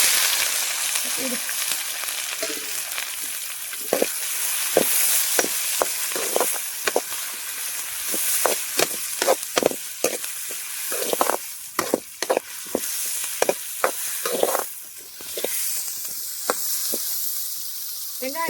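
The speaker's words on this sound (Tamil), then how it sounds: "நல்லா மசியட்டும் வெங்காயம் கொஞ்சம் நல்லா வதங்கிட்டு கொஞ்சம் இஞ்சி பூண்டு பேஸ்ட் போட்டுக்கலாம்" Chopped onions frying in hot oil with fennel seeds and curry leaves for a crab gravy, giving a steady sizzle broken by irregular scraping and clicking stirs, close and fairly quiet.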